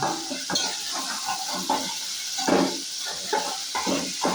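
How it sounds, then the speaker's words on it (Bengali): Potatoes being stirred and mashed in a hot pan, with steady sizzling hiss and repeated scraping, squishing strokes at an uneven rhythm, close up and alone. "দেখুন কীভাবে ঘেঁটে নেওয়া হচ্ছে"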